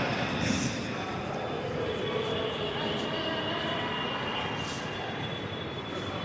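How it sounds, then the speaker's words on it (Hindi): Delhi metro train rolling along at a station, a continuous rumbling roar with faint rail hiss, moderately loud, while voices chatter nearby. "यहाँ पे ट्रेन आएगा, मेट्रो।"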